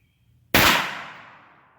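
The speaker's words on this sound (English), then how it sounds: "So we're going to start with the 22. I'm going to shoot the top" .22 caliber gunshot fired at magazine body armor from about five to six feet: a single loud, sharp crack that rings out and fades over roughly a second after a brief quiet.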